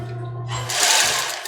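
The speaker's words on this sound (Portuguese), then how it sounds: "costura, dá um retrocesso." A sewing machine stitches a bra, starting with a low hum and breaking into a loud, rapid whirring run of stitching close by, with no voices.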